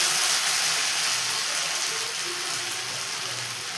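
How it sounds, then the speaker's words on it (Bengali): Dal frying in oil in a pan gives a steady, bright hiss and crackle that holds evenly, fading slightly toward the end with no voices. "চলো এবার ডালটাকে সব লাল লাল করে ভেজে নিই"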